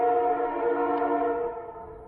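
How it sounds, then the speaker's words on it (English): A train sounds a long, steady multi-tone horn at a distance, holding for about two seconds and slowly fading, alone with no talk. "And there's a train coming."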